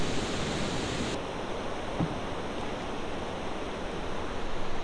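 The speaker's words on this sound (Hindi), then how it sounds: "ये बहुत तेज़ है पानी, हाँ इसका बहाव बहुत तेज़ है।" The fast-flowing Panimur waterfall in Assam gives a steady, loud rush of water, an unbroken broad hiss that stays constant and close with no voices.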